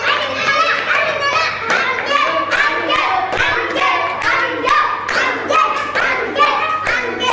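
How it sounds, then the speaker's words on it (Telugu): Children at a Sunday school clap their hands in a lively, uneven rhythm, loud and close, with bursts of claps repeating through the stretch while young voices chatter and shout over the clapping. "చప్పటి కొట్టాలి, చప్పటి కొట్టాలి. మీరు క్లాప్స్ పెట్టారా?"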